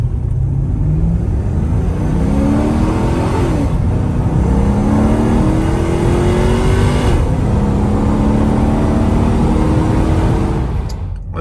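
Supercharged 1990 Porsche 928 S4 automatic launching from a standstill with wheelspin: a loud, close engine roar climbs steadily through rising revs for about ten seconds with no speech.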